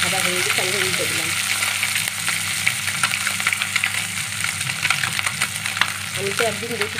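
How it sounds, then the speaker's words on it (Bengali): Small mourola fish, just flipped, keep frying in a kadai, giving a continuous close crackle and sizzle with sharp spitting pops and a brief murmur of voices in the background. "মাছটা সবই ভাজা হয়ে গেছে"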